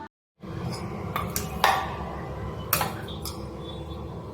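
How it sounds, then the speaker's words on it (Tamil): Curd chutney with onion, tomato and coriander is stirred in a bowl, with a few light clinks and scrapes of a spoon against the dish over a quiet background. "லாஸ்ட்டாக போட்டு நல்லா கலந்து விட்டுக்கலாம்"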